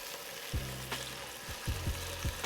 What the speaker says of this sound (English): Then we're gonna lay our chuck roast right on in there.